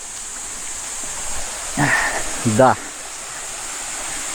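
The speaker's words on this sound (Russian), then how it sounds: "здесь нас ждет все-таки чудо, а конкретнее реально водопад" A Philippine waterfall gives a steady, even rush of falling water throughout, with a voice cutting in briefly twice near the middle.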